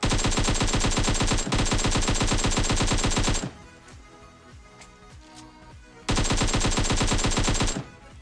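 GROZA rifle fire in PUBG Mobile on the desert map: a long, loud, rapid automatic burst, a pause filled with faint game ambience and distant shots, then another sustained burst.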